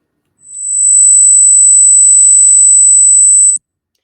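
A steady, piercing high-pitched electronic tone holds for about three seconds, then cuts off abruptly; nothing else is audible.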